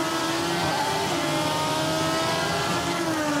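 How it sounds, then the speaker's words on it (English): A Honda-powered IndyCar at the 2009 Honda 200 accelerates to full throttle, its engine a loud, continuous high-pitched scream that climbs steadily in pitch and holds for a few seconds without talk. "Look at how quick she goes back to full throttle."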